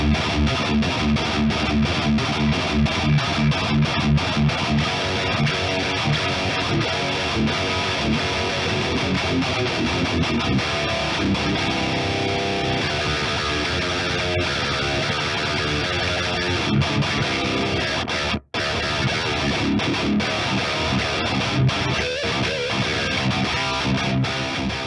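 Heavily distorted electric guitar through a Mesa V30 cabinet impulse response on an AX8, miked with an Audio-Technica 4047, playing chugging riffs and sustained chords, loud and thick, with a brief cut to silence partway through.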